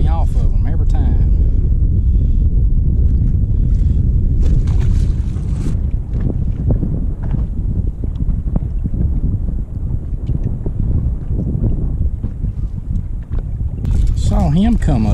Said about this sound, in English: I am really having to fight the wind again right here, guys.